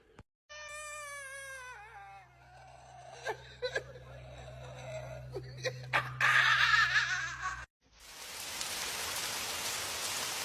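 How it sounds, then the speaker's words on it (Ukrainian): Steady hiss of rain falling starts abruptly and continues, following a stretch of a cat-like meowing voice and laughter. "Це що дощ? Це дощ? Дощ! Вода з неба!"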